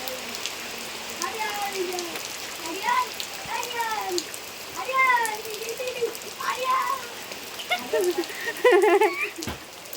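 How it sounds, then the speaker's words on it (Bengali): Heavy rain patters steadily on surfaces throughout a village outing, while people speak in short bursts over the downpour. "আরো জোরে বৃষ্টি চলে আসছে"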